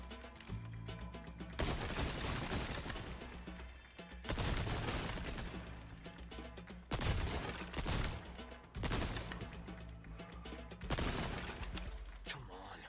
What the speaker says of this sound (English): the TMP is quite literally a machine gun